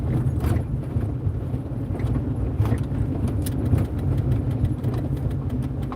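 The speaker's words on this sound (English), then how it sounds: "It looks like we got a plow truck coming up." A snow plow truck on a central Iowa road produces a steady, loud road rumble with engine noise and scattered metallic rattles throughout, with no talking.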